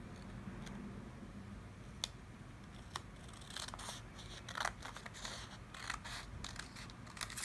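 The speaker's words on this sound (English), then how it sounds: "I grab scissors and cut it" Scissors cutting a paper doily snip repeatedly at close range, a series of quiet crisp cuts and clicks against a low background hum, no voices.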